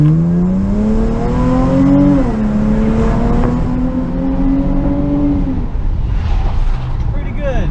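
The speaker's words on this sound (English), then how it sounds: "This is a second gear rip." A Dodge Charger GT AWD V6 with its rear muffler deleted pulls hard through second gear, the raspy exhaust note rising steadily in pitch, heard from inside the car with a voice speaking near the end.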